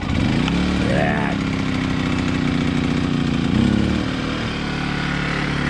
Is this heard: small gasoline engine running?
yes